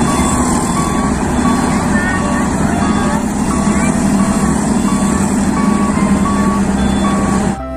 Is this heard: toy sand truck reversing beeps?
yes